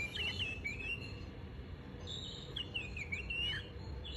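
A clock chime plays a recording of many birds, several chirping, warbling calls in two bursts over a steady low hiss, soft and close, with no talking.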